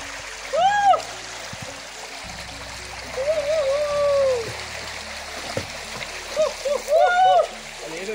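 People bathe in a forest stream along the ancient Bhairavakona footpath in Nallamala, with irregular water splashes and trickling over a steady flow, mixed with bright whistles or shouts and voices nearby.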